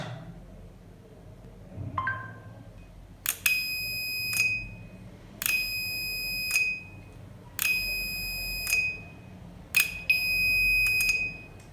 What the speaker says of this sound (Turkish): Alarm evdeki bütün aydınlatmaları aktif edip bir de buzzer'la sesli uyarı veriyor.